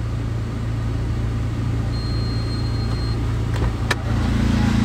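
A tuned Toyota Yaris with a turbo engine idles and revs in a steady, loud, close rumble with a constant low drone and brief sharp spikes near the end, no voices.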